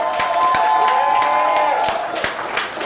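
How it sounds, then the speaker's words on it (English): A campaign announcement crowd keeps up loud, continuous cheering and clapping, with shouts and whoops over the din and a few sharp nearby claps punctuating the brief burst. "Keep clapping, keep clapping, keep clapping."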